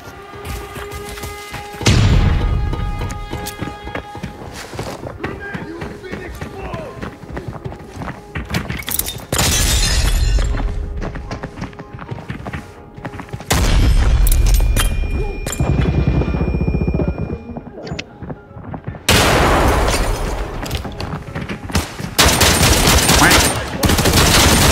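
Gunfire in the shooter game Arena Breakout, with loud bursts of automatic and shotgun fire and heavy booms coming in several waves across the clip, mixed with game effects and some talk.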